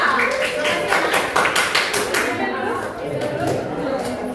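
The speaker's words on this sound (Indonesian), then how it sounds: "Beri tepuk tangan yang meriah untuk kelompok 3." A high school geography class applauds a student group, the brisk claps thick at first and thinning out after a couple of seconds, with voices in the room beneath.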